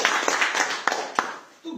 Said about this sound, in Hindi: एक बार बहुत जोरदार ताली बजाएं इसके लिए।